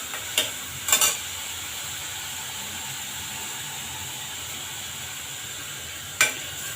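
Onion frying in a pan for Punjabi-style rajma masala, a soft continuous sizzle with a few sharp clinks of stirring near the start and one near the end.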